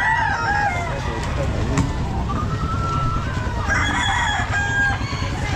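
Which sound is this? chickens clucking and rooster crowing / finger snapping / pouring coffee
chickens clucking and rooster crowing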